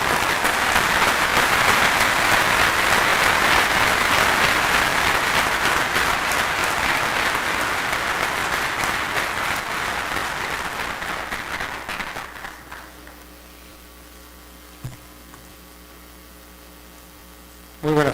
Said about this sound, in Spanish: para quien pido un caluroso aplauso